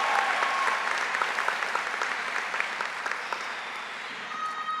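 A graduation audience at the 2019 Rowan University commencement for the College of Humanities and Social Sciences breaks into sustained, dense applause and cheering, a loud, steady wash of clapping from a large crowd with no talk over it.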